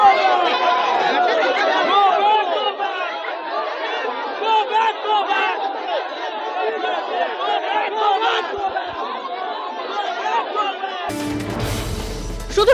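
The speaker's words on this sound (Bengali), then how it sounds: "সাংসদ প্রতিমা মণ্ডল ঘটনাস্থলে এলে তাঁকে ঘিরে ধরে জনতা ওঠে গোব্যাক স্লোগান" A crowd surrounding a member of parliament shouts go-back slogans, a dense and loud mass of overlapping angry voices that keeps up throughout before a sudden burst of noise near the end.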